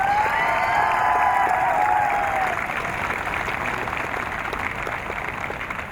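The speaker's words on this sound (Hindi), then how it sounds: "जो विश्वविद्यालय के बगीचे सजाते हैं उनके लिए ताली तो हम बजा ही सकते हैं।" An audience at a university Independence Day celebration in Allahabad applauds, a broad, steady wash of many hands clapping, with a brief faint voice at the start.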